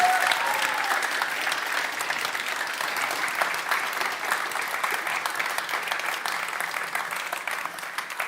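An audience claps at a games graduation event after team presentations, dense sustained applause filling the room at an even level throughout, fading slightly toward the end.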